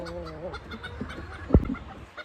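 A rooster, one of several chickens, gives short clucking calls over a low murmur, with one sharp, loud squawk near the middle.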